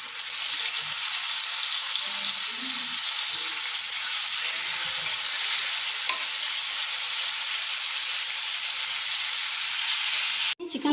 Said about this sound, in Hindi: चिकन जो है वो हमने तवे पे डाल दिया है।